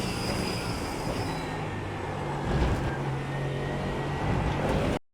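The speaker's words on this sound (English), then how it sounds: "In terms of sound from in the car sounds like this." A race car engine in iRacing drones steadily from inside the cockpit, a dense mechanical roar with shifting tones and a brief surge before cutting off.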